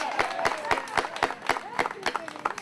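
Audience at a backyard BBQ event claps in scattered, uneven bursts, with sharp individual hand claps standing out near the listener and voices chattering underneath.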